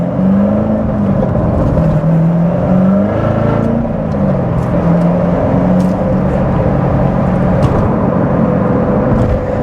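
A manual Chevrolet Corvette C7 Z06 engine revs and accelerates loudly and steadily, its pitch climbing and dipping through the gears in a continuous close roar.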